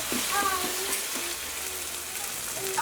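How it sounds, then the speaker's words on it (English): Ground turkey meat for chili, with tomato paste, sizzles and browns in a 6-quart Cosori multicooker while it is stirred and broken up. A steady loud frying hiss runs throughout, with soft scraping stir sounds and no talk. "just give this a mix, and you want to make sure you break up those pieces of meat"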